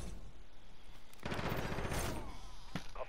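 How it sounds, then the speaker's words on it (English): Longbow sniper rifle firing in a video game, a loud burst of gunfire sound about midway followed by a shorter sharp crack near the end over steady background noise. "check out the sniper rifle, man."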